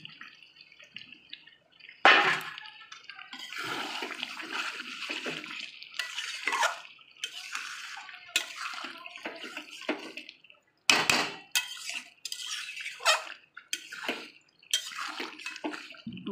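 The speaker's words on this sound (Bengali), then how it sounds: "দিয়ে এবার মাংসের যে জলটুকু ছিল এটা দিয়ে দিলাম।" Meat stock water pours into a cooking pot in a home kitchen for a mutton curry, a splashing pour with scattered drips and light clinks of metal, fairly close with no talking.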